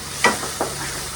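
Maggi noodles with tomatoes sizzle and crackle in a pan, with a couple of short stirring scrapes over a steady soft hiss.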